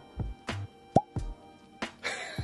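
A Wolfburn whisky bottle stopper is pulled open with a single bright, hollow pop amid a few soft handling knocks and taps, close and fairly quiet with no talking.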